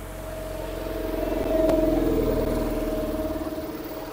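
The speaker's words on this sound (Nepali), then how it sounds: "अब हामी हाइकिङ जाने रेलगाडी छुक रेलगाडी" A small hiking train moves along a hillside track at the Hanging Garden in Dubai, its motor giving a steady, close hum that swells in the middle and eases off again, with no voices.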